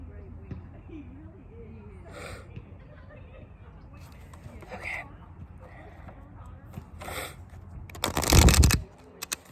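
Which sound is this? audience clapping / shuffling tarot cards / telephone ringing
shuffling tarot cards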